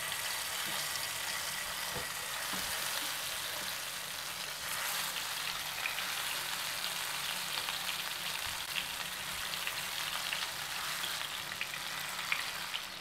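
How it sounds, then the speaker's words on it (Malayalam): Marinated pieces frying in oil in a pan, a steady soft sizzle and crackle running unbroken, fairly quiet and close with no voices. "അതിനുശേഷം നമുക്ക് ഒരു പാനിൽ കുറച്ച് ഓയിൽ ഒഴിച്ച് ഇതൊന്ന് ഫ്രൈ ചെയ്തെടുക്കാം."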